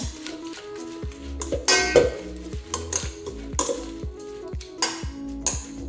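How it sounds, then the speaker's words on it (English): Spinach and beetroot salad being tossed with vinegar in a bowl, with soft clinks and scrapes of utensils against the dish in an uneven rhythm over faint background music. "We're gonna mix it all up, mix it, mix it, mix it."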